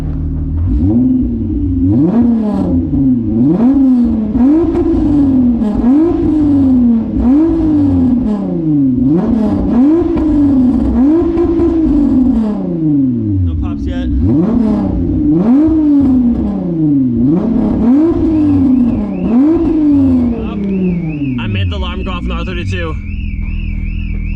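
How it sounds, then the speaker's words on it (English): A car engine revs repeatedly in rising and falling surges, loud and close, with a higher whine and clatter near the end. "maybe we'll get some exhaust revs right here"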